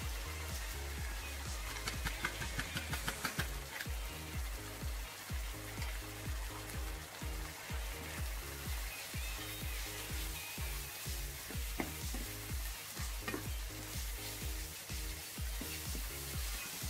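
Seasoned taco meat fries and sizzles in a pan, with a steady hiss broken by regular scraping and stirring strokes, close and fairly quiet throughout.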